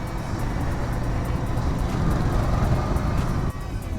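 Road traffic rushing past during a ride on a Royal Enfield GT 650 motorcycle, a steady loud roar of engine and wind with vehicle noise blended in, constant throughout.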